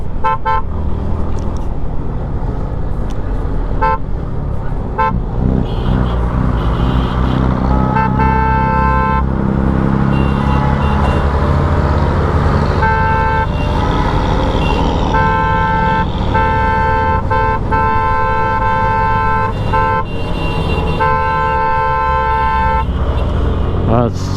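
A car climbs a mountain road, overtaking buses amid a constant rumble of engine and road noise, with repeated horn toots and someone talking over it throughout.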